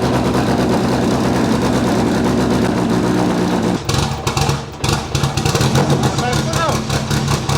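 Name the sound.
RS500 Cosworth touring car engine revving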